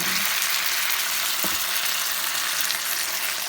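Garlic fries in a pan with a loud, steady sizzle that runs unbroken throughout, interrupted only by a brief utensil clack near the middle.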